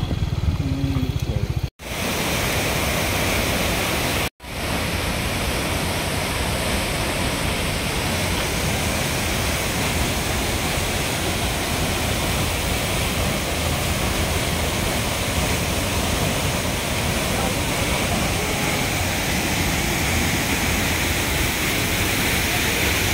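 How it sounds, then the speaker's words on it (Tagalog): Tuwasan Falls, a powerful waterfall, pours down hard in a loud, steady broadband roar close by, unbroken apart from two brief dropouts near the start. "ito nga pala ang Tuwasan Falls. Grabe, ang lakas ng bagsak ng tubig."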